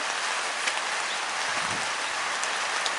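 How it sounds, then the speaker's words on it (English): Steady rain pours down on an outdoor cricket ground, a dense continuous hiss of falling drops with no voices. "And the rain continues to increase in intensity."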